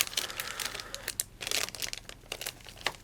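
Plastic packaging from a military food ration crinkles and crackles close up in irregular bursts of crumpling and rustling, with no talk.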